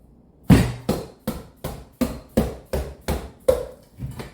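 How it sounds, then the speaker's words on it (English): A mallet taps a knife through a spaghetti squash, about ten dull thuds in a steady rhythm, close and fairly loud with no talking. "Get a mallet and just give it a couple little taps."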